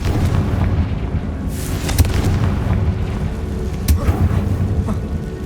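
A Confringo blasting spell explodes in Hogwarts Legacy, a loud rumbling boom amid dense continuous combat noise, with sharp cracks at intervals.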